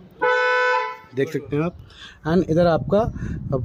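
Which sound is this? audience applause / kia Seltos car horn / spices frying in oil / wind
kia Seltos car horn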